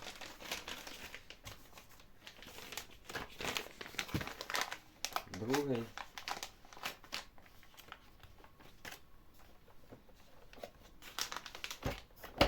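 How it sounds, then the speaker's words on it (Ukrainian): Plastic vacuum-sealing bags crinkle and rustle in bursts as they are handled up close, with a person speaking briefly in Ukrainian over the noise. "Беру одразу по два пакети. Ложу один."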